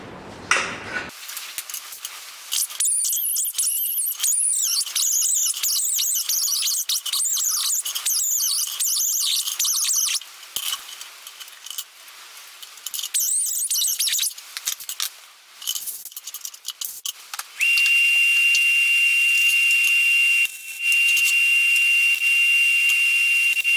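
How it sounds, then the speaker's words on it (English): A welder tacks small metal brackets for a battery box on a 1972 Elco, giving close, loud crackling and buzzing bursts, then a steadier sustained hiss toward the end. "get the welder out and just give them a little bit of a tack on each one"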